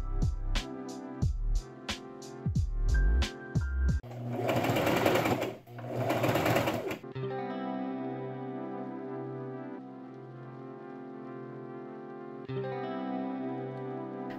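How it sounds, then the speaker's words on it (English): A sewing machine stitches a gathered ruffle onto a collar piece of a black dress, running in short rapid bursts at first and then in a long steady hum, loud and close with no talk. "I sewed the gathered ruffle down to one collar piece"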